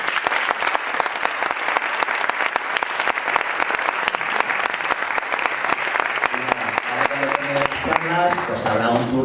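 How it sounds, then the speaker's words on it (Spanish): An audience at a Podemos political meeting in Albacete applauds three speakers with loud, continuous clapping, and a few voices chatter over it near the end. "pues un fuerte aplauso para los tres"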